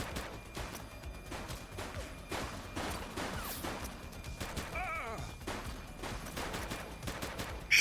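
Gunshots ring out in The Precinct, a police video game, as repeated sharp cracks and bursts over a busy, noisy backdrop, with voices talking in between.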